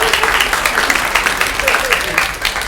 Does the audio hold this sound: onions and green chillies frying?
no